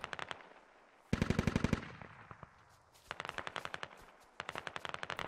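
Gunfire in the video game Squad comes as bursts of automatic weapon fire: one close, loud volley, then several sharp rapid strings with short pauses between them.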